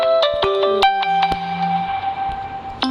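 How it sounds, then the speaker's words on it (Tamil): A phone ringtone sounds during a Steal a Brainrot gameplay session, a clear melodic series of bright tonal notes with sharp onsets, close and fairly loud, ringing alone for a few seconds. "ஒரு நிமிஷம் ஃபோன் அடிக்குது."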